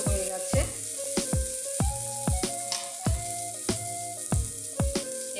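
Potatoes and drumsticks frying in oil in a pan, with a soft steady sizzle broken by repeated sharp clinks and scrapes of a utensil stirring at an uneven rhythm, close and fairly quiet.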